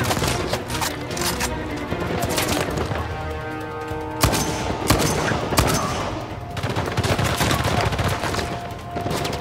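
Rapid bursts of gunfire in an Uncharted 4 shootout at a nest, sharp overlapping shots crackling close and loud over a steady battle din, with a brief lull and then renewed firing.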